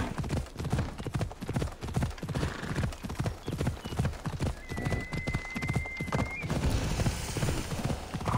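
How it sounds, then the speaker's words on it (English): Horse hooves clip-clop in a steady, even gallop rhythm in Assassin's Creed Odyssey, loud and close throughout, with a brief whinny and faint game sounds behind. "Lost horse of Odysseus"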